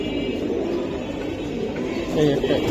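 Pigeons coo low and steady under busy market chatter at a pigeon market, with people talking close by throughout.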